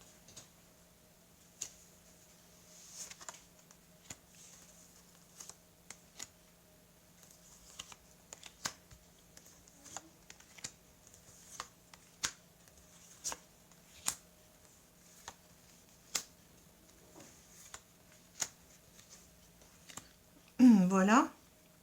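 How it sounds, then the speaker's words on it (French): Tarot cards spread out across a table, heard as a long run of soft, separate ticks and light taps spaced irregularly, quiet and close, with a brief voice near the end. "je vais étaler les cartes"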